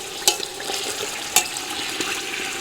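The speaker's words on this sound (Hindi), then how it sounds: "तो गोश्त फ्राई हो रहा है" Meat fries in a pan with a steady, close sizzle, and a spoon clinks sharply against the pan twice.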